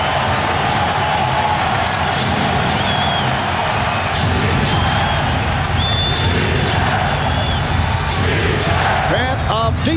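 Capacity crowd roaring and cheering in a packed arena during the 2001 NBA Finals Game 2 between the Philadelphia 76ers and Los Angeles Lakers at Staples Center, a steady loud wash of voices with shouts, whistles and sneaker squeaks throughout.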